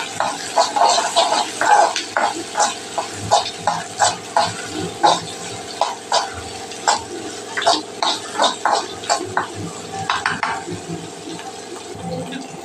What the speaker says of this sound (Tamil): பூண்டு கொஞ்சம் நேரம் வதங்கணும். அதன் பிறகு நம்ம வெங்காயம் சேர்த்துனா இது ஈவனாக வெந்துடும்.